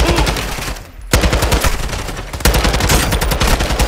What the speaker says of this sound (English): This gun destroys their armor.